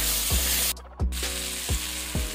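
Fried vegetables sizzle loudly in a pan for a Bengali egg curry, a close steady hiss broken by several rhythmic scraping stirs of the spoon, with no talk.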